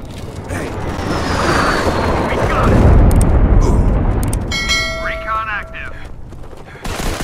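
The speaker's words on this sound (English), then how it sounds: "Airstrike incoming." An airstrike in the Modern Combat 5 shooter game sends up loud, rolling explosions that swell into a heavy rumble over several seconds and then fade as a voice speaks over the tail.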